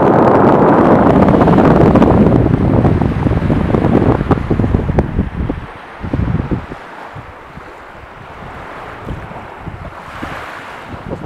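Strong wind gusts against the microphone on the Bakalskaya Spit coast in Crimea, with surf washing in; loud and roaring at first, then easing into softer buffeting and breaking waves.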